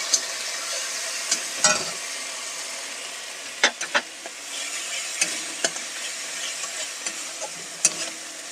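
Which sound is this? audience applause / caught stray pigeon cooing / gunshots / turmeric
turmeric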